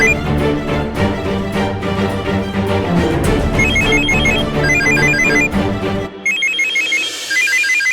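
A telephone rings in a Tamil TV serial's home drama scene, its electronic ringtone repeating in steady bursts over loud background music that cuts out near the end.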